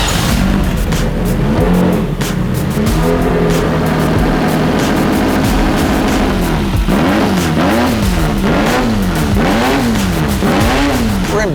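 A race car called Vader, in a transmission and engine shop in Ensenada, revs loud and close, its engine rising and falling in repeated throttle blips that settle into a rhythmic wavering whine, with no talking.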